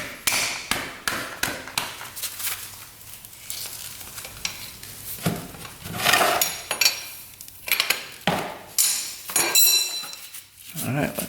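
A 24 mm oil drain plug cap is worked loose from a 1980 Honda dirt bike with a series of close, sharp metallic clinks, taps and scrapes in an irregular rhythm.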